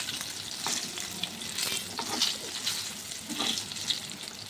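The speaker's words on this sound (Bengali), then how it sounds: "বেগুন ভাজা চাপিয়ে দিয়েছি" Eggplant slices frying in a pan of oil in a home kitchen, giving a continuous broadband sizzle with soft crackling surges and occasional stirring scrapes, steady and moderately close with no talking.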